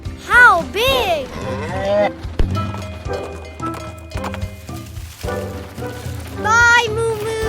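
A cartoon cow moos in a children's animated show set beside a toy train, its loud, drawn-out lowing calls recurring among cheerful voices and background music.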